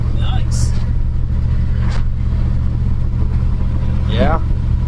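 Steady road rumble and engine drone fill the cab of a 1992 Chevy OBS pickup riding on a new lowering kit. The noise is continuous and fairly loud, with a few brief higher chirps on top.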